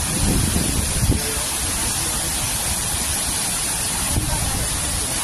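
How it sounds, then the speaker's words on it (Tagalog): Waterfall in Taiwan, a dense, constant roar of rushing water filling the scene close by, with wind buffeting the microphone and a faint voice beneath it. "andito kami sa waterfalls"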